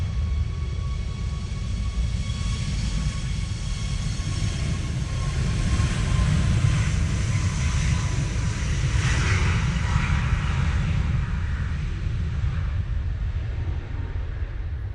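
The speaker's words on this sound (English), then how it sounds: "But first out will be this TUI 737 MAX 8. Going off to Ivalo." A TUI Boeing 737 MAX 8 takes off at a wet, windy Manchester Airport, its jet engines a loud, steady broadband roar with a faint whine that holds for the whole stretch without a break.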